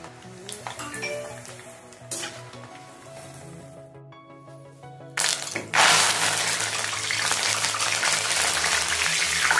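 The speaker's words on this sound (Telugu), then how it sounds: "కార బూందీలోకి వేరుశనగ గుళ్ళు చూసారు ఎంత బాగా వేగుతున్నాయో" Peanuts frying in hot oil for kara boondi, a steady bright sizzle that swells louder partway through, with a few metallic pings and pan clinks early on.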